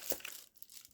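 A plastic Amazon shipping bag being cut open, one short crinkle and tear of the thin plastic, close and fairly quiet, then a brief lull with faint rustling.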